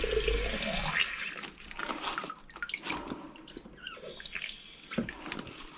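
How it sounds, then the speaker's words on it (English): Water trickles and gurgles as a bottle is topped up to the brim with a solution inside, close and moderately loud with irregular splashes and drips over several seconds. "I just put a little bit of water in the top to make sure it's completely full."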